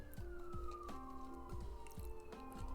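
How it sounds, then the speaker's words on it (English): A faint siren wails steadily in the distance, its tone slowly sliding, beneath a low background hum with occasional soft thumps. "More fucking sirens."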